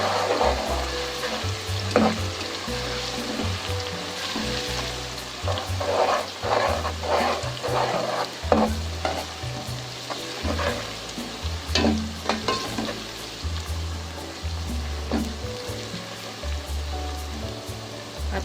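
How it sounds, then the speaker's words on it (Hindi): Ginger garlic paste fries in a pan for biryani, giving a steady, close sizzle with crackling bursts and occasional stirring scrapes throughout, with no voices. "अब इसमें मैं डाल दूँगी अदरक लहसुन पेस्ट, और इसको मैं थोड़ा सा भूनूंगी ताकि इसकी स्मेल चली जाए।"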